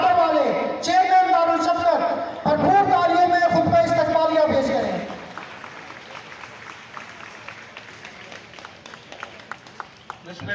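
An audience at a ceremony at the Dar-ul-Shafqat orphanage with the Governor of Punjab breaks into steady applause after a voice finishes an announcement over a PA. The clapping goes on for several seconds, with scattered louder claps.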